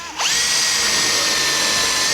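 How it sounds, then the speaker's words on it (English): Power drill boring and countersinking into a plywood board in a workshop, a sharp motor whine rising at the start and then holding steady, loud and close, with no talk. "if I drill and countersink that and then put a screw in"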